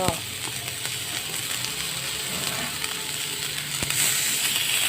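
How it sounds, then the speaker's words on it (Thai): Salted pork liver frying in a pan, a dense, steady sizzle and crackle that stays loud and close throughout, with faint background voices. "ก็จะย่างไปเรื่อยๆ จนกว่ามันจะสุกนะคะ"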